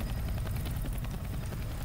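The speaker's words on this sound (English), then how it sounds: "A helicopter!" Rhythmic rotor beating of a helicopter in the game Left 4 Dead 2 continues as a steady, moderately loud whirring chop, unbroken and without voices.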